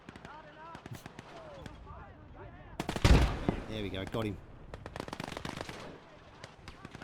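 Bursts of rapid gunfire in the World War II strategy game Gates of Hell: Ostfront crackle under a voice, with a loud cluster of shots in the middle before the firing tapers off.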